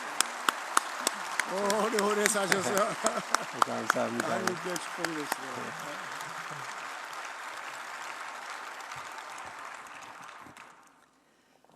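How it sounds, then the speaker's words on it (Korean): A church congregation stands and applauds a 90-year-old pastor. Steady clapping fills the room for about ten seconds while someone speaks over it, then fades to quiet. "한번 일어나서 한번 박수하십니다"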